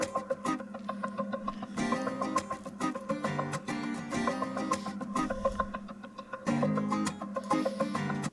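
A beat built from chopped guitar and tom loops pulled from Splice plays quietly, with choppy, stuttering guitar fragments over rhythmic tom hits in a steady repeating pattern, with no voices over it.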